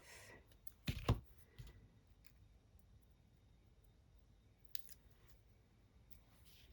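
Scissors snip near the start with a couple of sharp close cuts, then a fainter snip later, set against a quiet room.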